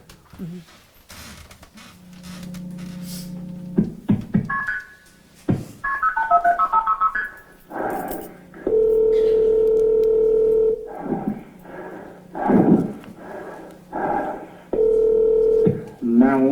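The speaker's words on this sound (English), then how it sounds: "There's another phone call." Telephone dialing tones and a steady dial tone during an emergency call, sounding as loud electronic beeps and sustained tones in bursts, alternating with short stretches of voices.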